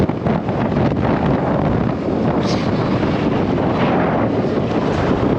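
Wind blows hard across the microphone on a rural roadside journey, a loud continuous rumbling buffet with slight surges and no clear voices.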